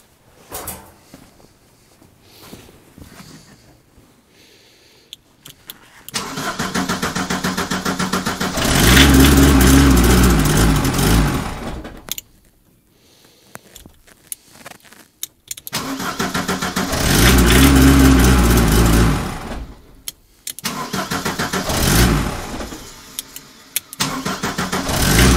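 An old Ford Escort diesel estate car engine, first start attempt after years, cranks and catches twice, roaring up loudly then cutting out, with quiet clanking and rustling between attempts.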